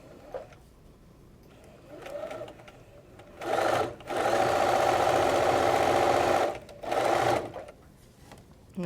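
Sewing machine stitching a flat felled seam in white fabric, a steady mechanical whir that starts and stops in short runs before one long sustained burst, close and clear.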